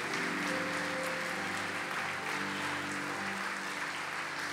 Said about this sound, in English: I would like to give a round of applause to our Leon County School Board members who are here tonight.